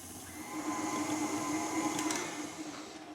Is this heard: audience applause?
no